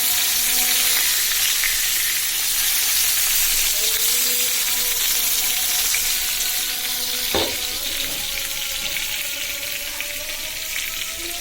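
Fish frying in hot oil gives a steady, close, loud sizzle that runs unbroken throughout, with a faint clink of stirring near the middle and no voices.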